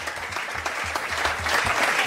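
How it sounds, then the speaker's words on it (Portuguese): Audience applause at a forró awards ceremony, a steady, dense burst of clapping from a crowd heard loudly and continuously throughout. "Mais uma vez, um salva de palmas."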